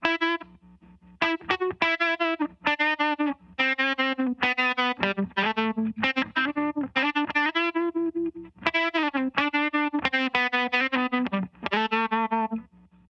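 An electric guitar plays a riff of choppy, repeated notes through a swirling modulation effect from a Line 6 M13 pedal, with the tone slightly distorted and a brief gap in the middle.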